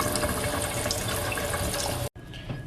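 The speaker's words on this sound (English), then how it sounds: "now I'm gonna fill this up with about 1 1/4 cups of water" Tap water pours steadily into a pot of rinsed rice, a continuous close splashing stream that cuts off abruptly near the end.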